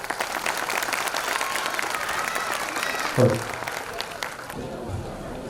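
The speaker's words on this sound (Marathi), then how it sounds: "एकदा जोरदार टाळ्या माझ्या कोरससाठी आणि एकदा जोरदार टाळ्या एकदा वादकांसाठी." Applause from an audience at an annual community gathering, cheering the chorus and musicians: a steady wash of clapping across the hall, moderately loud, with a voice briefly rising above it before the clapping thins out.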